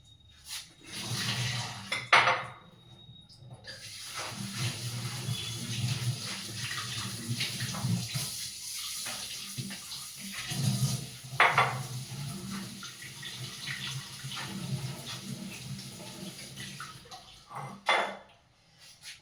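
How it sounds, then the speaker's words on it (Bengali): Cut potatoes are washed under running water in a kitchen sink: bursts of splashing from the tap mixed with rattling of the pieces and clinks of a bowl, close and intermittent across the whole stretch. "এখানে এই যে আলু কাটাই আছে, এগুলো একটু ভালো করে ধুতে হবে এখন"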